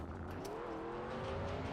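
Racing car engine in Trackmania, a steady droning hum with a rising whine as the car builds speed, continuous and moderately loud with no voices.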